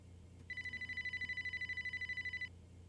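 A telephone rings in the video game Lucid Streams Amber, a loud, steady electronic ring that pulses in rapid bursts for about two seconds against a low ambient game hum.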